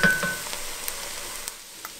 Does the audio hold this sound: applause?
no